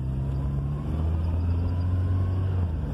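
A 1985 Volkswagen Santana automatic pulling away in first gear, a steady low engine drone heard from inside the car, with the pitch climbing slightly as it accelerates.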